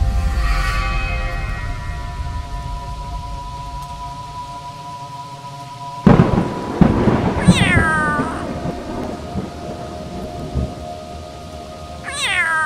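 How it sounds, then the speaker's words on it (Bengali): A sharp thunder crack from a lightning strike bursts out mid-clip and rolls into a low rumble during a storm, with a cat meowing loudly a few times afterward over a steady droning background. "একটা বাজ পড়ল আবার।"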